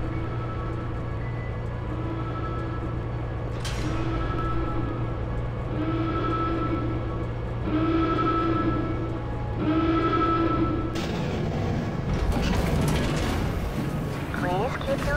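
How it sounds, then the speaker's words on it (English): A transit train in the Black Mesa Blue Shift game rolls steadily along its rails with a low continuous rumble, periodic clattering passes and a rising burst of noise near the end, under a calm announcer voice. "This train is inbound from Area 8 Topside Dormitories to the Central Transit Hub in"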